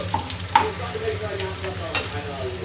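Meat fries in a pan as ginger garlic paste goes in, giving a steady sizzle with brief scraping stirs and a few sharp pops.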